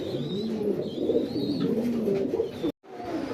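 An imported pair of Afsan grizzle pigeons coos steadily and up close, with low rolling calls throughout and a brief dropout near the end.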